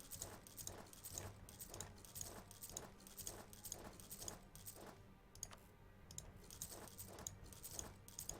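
Rhythmic horse hoof clip-clops in a strategy video game, an even steady clatter repeating about twice a second, quiet and alone without speech.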